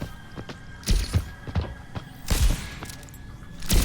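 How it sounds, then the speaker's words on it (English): Overwatch grenade fire in a match: a series of irregular, punchy thuds and bursts arrive in quick succession over a low game hum, several louder impacts standing out. "that's gonna be a nade. I have to dodge a nade."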